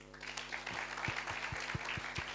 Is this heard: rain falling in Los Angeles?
no